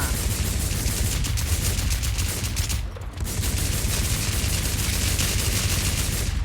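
Sustained automatic gunfire rattles in the online survival shooter WarZ, dense overlapping rapid shots close and loud with a brief lull midway before the barrage resumes.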